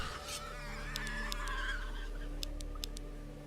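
A flock of chickens in the Risen video game, many birds flapping about, gives short, scattered clucks and squawks over a steady low background hum.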